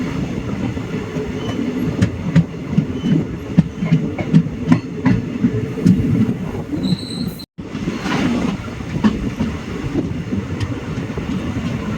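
An old coach of the Tuticorin-Mettupalayam Express rattles and shakes as it runs, with a steady low rumble, rhythmic clatter of wheels over rail joints and occasional sharp knocks, briefly cut off near the middle before resuming.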